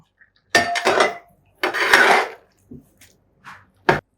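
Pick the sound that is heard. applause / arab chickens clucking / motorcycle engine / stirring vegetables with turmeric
stirring vegetables with turmeric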